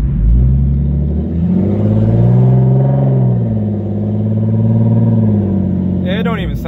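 An Infiniti G35's engine, after a bad leak was repaired, revs up and settles repeatedly, a loud close rumble rising and falling in pitch, with a brief voice near the end.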